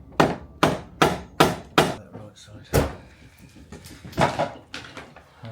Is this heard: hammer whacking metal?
yes